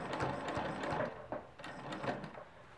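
A sewing machine runs in a steady mechanical whir as it stitches along a ruler-guided arc while quilting, with small ticks and pauses as the fabric is shifted, moderately close and alone.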